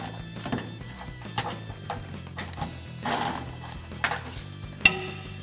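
A socket ratchet clicks in short bursts while a 14mm wrench and socket tighten a bolt and nut on a Silverado 1500 dual exhaust install, the close, crisp pawl ticks coming in uneven runs with faint metallic clinks.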